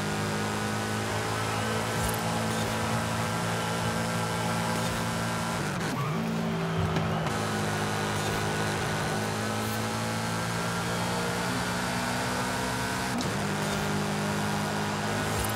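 A racing car in Forza Horizon 5 drives continuously with a loud, steady engine roar and layered harmonics, broken by two brief tire scrubs or gear shifts.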